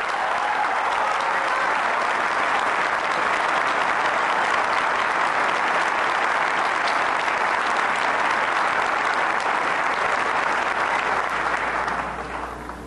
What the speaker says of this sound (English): Let's give Geraldine a big New York round of applause.